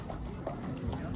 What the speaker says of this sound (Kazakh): О, жақсы екен, жылқы.